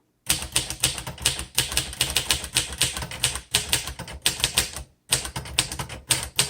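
Rapid keystrokes on a 1957 Royal Quiet De Luxe manual typewriter clatter in dense bursts, broken by short pauses; a distinct carriage bell is hard to pick out from the typing.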